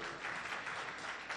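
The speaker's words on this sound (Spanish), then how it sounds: "Por favor, un fuerte aplauso para ella." Audience applause for a doctor introduced as a conference speaker on stem cells and prolotherapy, a steady wash of clapping across the short moment with no voices.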